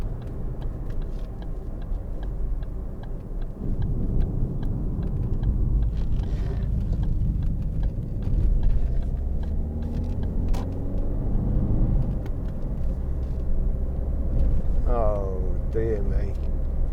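A 2013 Ford Focus 1.6 TDCi ECOnetic diesel hatchback driving along a sweeping country road, its steady low engine and road rumble continuous throughout, with someone talking over it.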